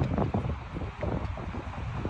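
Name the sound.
wind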